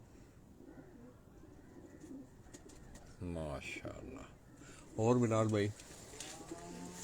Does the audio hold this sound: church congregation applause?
no